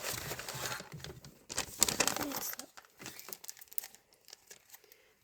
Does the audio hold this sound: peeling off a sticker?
yes